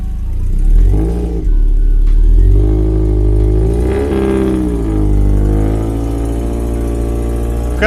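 A Toyota MR2 engine cranks and catches near 1 s, then revs up and down in several surges before settling to a steady idle, loud and close with no talking.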